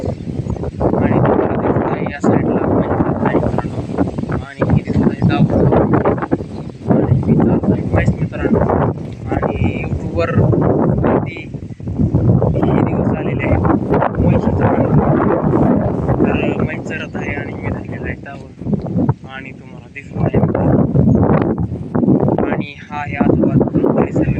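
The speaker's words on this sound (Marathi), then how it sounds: "वारा सुटलेला आहे शेतामध्ये आणि आज दिवसभर बार बार बार बार वाराच येत आहे" Strong wind roars across a farm field and buffets the microphone in continuous gusts, loud and rough across the whole stretch.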